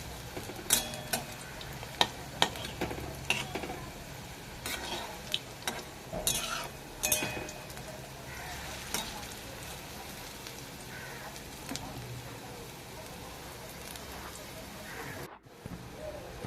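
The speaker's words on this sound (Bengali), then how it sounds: "অল্প তেলেই ভাজা হয়ে যায়" Semolina pakoras fry in a shallow layer of oil with a low sizzle. Frequent ticks and scrapes come from turning them with a utensil, and a person talks over much of it.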